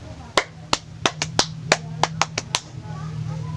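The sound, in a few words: group giving a mosquito clap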